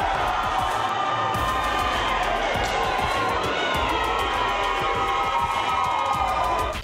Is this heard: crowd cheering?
yes